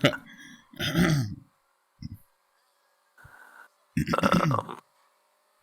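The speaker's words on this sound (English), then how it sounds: "Can't stop clearing my throat." A man clears his throat in a few short rough bursts separated by silences, close and moderately loud, alongside brief vocal noises during casual conversation.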